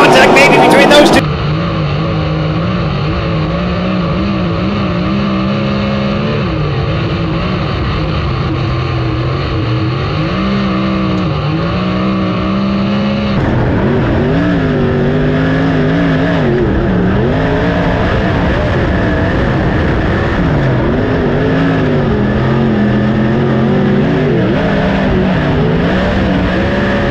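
Race cars battling for the lead on a dirt track in a 40-lap A-main at the 30th Annual Fall Nationals, engines droning and revving loudly with rising and falling pitch throughout, under continuous commentary from an announcer.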